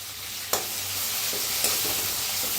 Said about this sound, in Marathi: हिरवी मिरची आणि लसूण पत्ता आणि टमाटो एक कापून घेतलेला आहे छान असं भाजून घेऊया